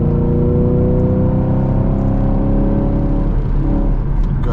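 Camaro SS 1LE engine pulling on a highway beside an 18-wheeler, a steady loud in-cabin drone with rising harmonic tones as it accelerates, continuous throughout with no talk over it.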